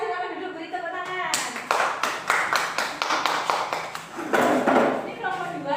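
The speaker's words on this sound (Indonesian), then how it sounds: "beri tepuk tangan" A group claps in a brisk burst of applause in a classroom, hands striking rapidly and unevenly, with people talking before and after.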